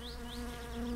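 Flies buzzing in the video game My Summer Car, a continuous close drone with wavering pitch, faint and alone.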